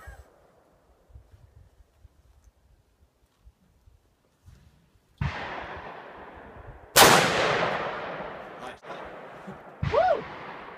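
Outdoors, a gun fires several sharp, loud shots spaced a few seconds apart, each one followed by a short fading echo, with quiet pauses and scattered faint noises before the first shot.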